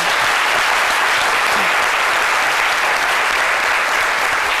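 Dense, loud studio audience applause on a French-language TV talk show, a continuous wash of clapping with no talk, filling the whole few seconds.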